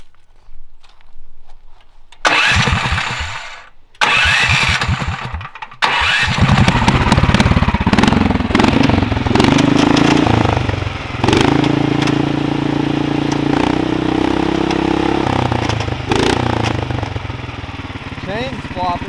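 A Duromax 500cc engine is pulled to start, sputtering in short bursts before catching and running with a loud, close, uneven idle and revving. People talk over the engine noise.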